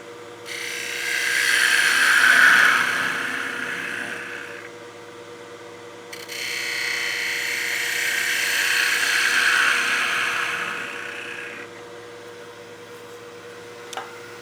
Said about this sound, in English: to undercut the rim, we'll go to our spindle gouge